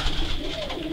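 Racing pigeons coo close by, a short soft run of low throaty burbling heard alone.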